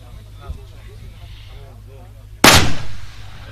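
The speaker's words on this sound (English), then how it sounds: "This is the last 5 shots right here." A single loud long-range rifle shot at an ELR shooting match cracks out after quiet talk on the firing line, with a sharp report and a rolling echo that trails away.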